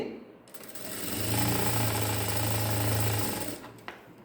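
A sewing machine runs a single sustained stitching pass on a sleeve hand design, a steady droning hum with a clattering needle that rises, holds for a few seconds and then stops.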